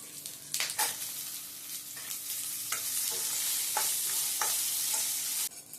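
Chopped onion and sesame seeds sizzle steadily in a hot pan, with scraping stir strokes recurring over the frying hiss.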